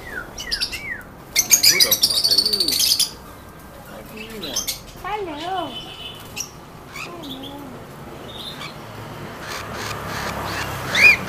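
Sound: birds chirping in a bird store

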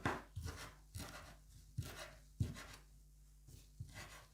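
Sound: knife chopping parsley

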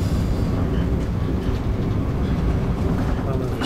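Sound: train running, riding in the last car

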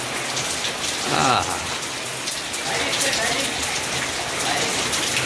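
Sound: rain

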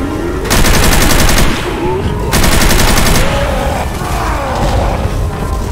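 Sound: belt-fed machine gun firing in a Counter-Strike video game

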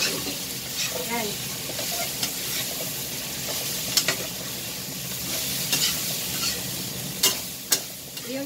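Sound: stir-frying vegetable fried rice in a pan

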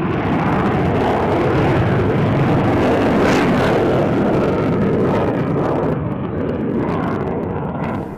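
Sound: Belgian Air Force F-16 solo display flying

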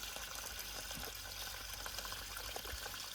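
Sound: water on hands, rubbing soapnut

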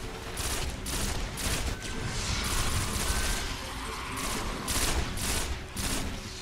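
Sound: pulse rifle gunfire in Destiny video game

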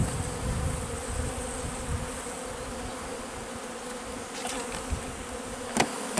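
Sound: honeybees buzzing around hive

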